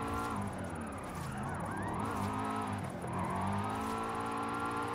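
Drift car engine in Forza Horizon 5 revving and wailing steadily with rising and falling pitch, loud and continuous for the whole stretch with no voice over it.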